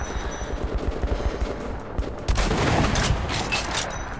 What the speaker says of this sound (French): Hé, hey, gunshot!